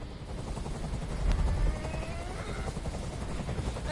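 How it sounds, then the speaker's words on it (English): Steady low whirring rotor noise from a helicopter in the video game Detroit: Become Human, holding throughout at moderate level with a brief swell near the middle and faint background tones. "I mean, it's a helicopter."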